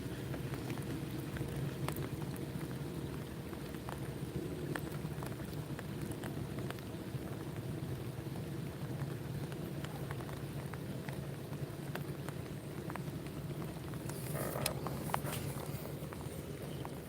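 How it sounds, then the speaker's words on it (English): Steady rain falls outdoors during a fishing outing, a continuous even patter that fills the whole stretch with a soft broadband hiss and no voices. "the rain slowed down a little bit"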